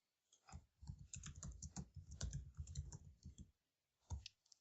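A man imitates computer keyboard typing with his mouth, a quick burst of clicky, percussive tapping sounds lasting a few seconds, close and fairly quiet, followed by a short pause and one more brief burst.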